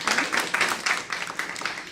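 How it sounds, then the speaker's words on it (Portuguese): An audience clapping for a panel at a talk on violence against women and girls, a brief burst of dense, rhythmic applause heard close and fairly loud. "eu quero pedir palmas para a mesa linda, maravilhosa"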